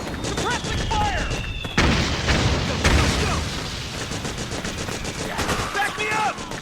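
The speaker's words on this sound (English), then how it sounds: "Suppressing fire!" Suppressing gunfire in the video game Metal Gear Solid 4: dense, continuous rattling bursts of automatic fire with heavier booming shots, loud and close, with game voices shouting through the battle.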